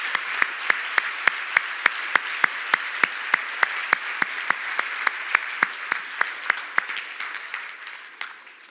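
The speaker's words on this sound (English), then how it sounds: "let's just give them a round of applause for putting on this conference" A conference audience claps for the organisers, a steady run of crisp, evenly spaced claps that sound like a small group, holding level for several seconds before thinning out at the end.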